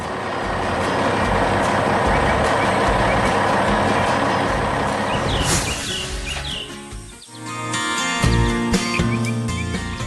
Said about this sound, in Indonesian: Truk itu kini melaju pergi membawa muatannya.